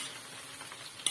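Shallots frying in hot oil are stirred in a pan, giving a soft, brief sizzle with scraping movement and no voices.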